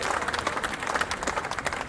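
A crowd at a cricket opening ceremony applauds, with dense continuous clapping and some cheering spread across the whole stretch at moderate loudness.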